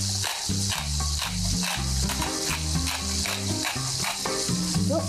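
Scallops fry in hot oil in a pan, a loud, steady, close sizzle with irregular crackles and low rhythmic knocking beneath it throughout.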